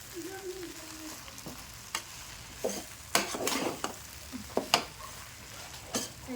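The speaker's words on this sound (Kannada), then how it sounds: "ಈಗ ಒಂದು ಐದು ನಿಮಿಷ ಚೆಂದ ತಿರುವಿ ಫ್ರೈ ಮಾಡ್ಕೊಂಡು ಚಿತ್ರಾನ್ನ ರೆಡಿ ಆಗ್ಬೇಕು ನೋಡಿ" Chitranna, lemon rice, is stirred and fried in a pan with a quiet sizzle beneath it, punctuated by irregular spoon scrapes and clacks against the metal.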